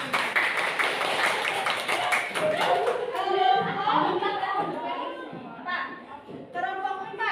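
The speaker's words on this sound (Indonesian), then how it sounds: "Tepuk tangan untuk kelompok ini." A classroom group of students claps for another group, a dense burst of applause through the first few seconds that gives way to children and a teacher talking.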